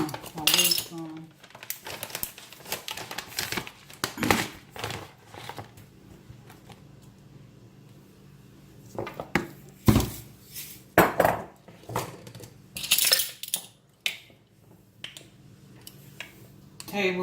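A tablespoon clinks and taps against a container while scooping hemp hearts, sharp metallic ticks and clicks in scattered clusters over a quiet background, close up, with some speech in between.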